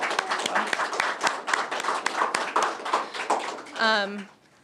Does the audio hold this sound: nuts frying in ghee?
no